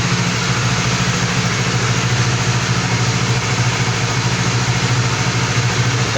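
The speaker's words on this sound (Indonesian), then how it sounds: "Oke, motornya sudah nyala, dia normal, nggak ada masalah." A Honda CBR150R motorcycle engine idling steadily, a close, even low rumble with a fine rapid pulse that holds unchanged throughout.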